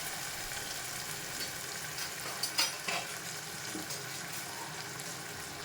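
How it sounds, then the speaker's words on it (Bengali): Mustard paste sizzling in hot oil while being stirred, a low steady fry with a few scraping clinks of the spoon in the middle, close and quiet. "এরপর আগে থেকে করে রাখা সর্ষের পেস্টটা এই তেলের মধ্যেই আবারও ছেড়ে দিতে হবে।"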